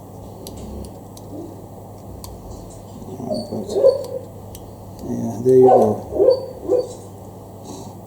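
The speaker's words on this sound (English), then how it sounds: "If you hear some strange noise in the background, it's my dog that's dreaming." A dreaming dog makes soft whimpering, yipping noises indoors, faint and intermittent in bursts, while someone talks nearby.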